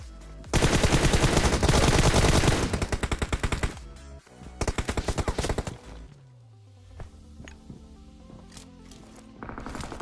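Long bursts of rapid automatic video game gunfire, loud and close, broken by short pauses, then scattered single shots and a falling tone as things quiet down.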